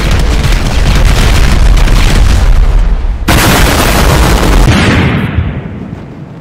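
A frag grenade goes off in GTA 5 with a heavy, booming blast amid rapid gunfire, then a second loud explosion that rolls off into a fading rumble during a prison escape shootout.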